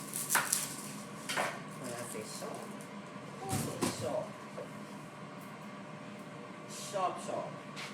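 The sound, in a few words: chopping an onion with a knife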